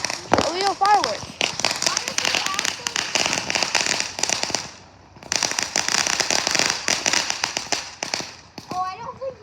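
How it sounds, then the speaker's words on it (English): Fourth of July fireworks, including illegal ones, crackle and bang in dense rapid bursts with a brief lull midway, while people talk and shout over them nearby. "How is this so many freaking illegal fireworks?"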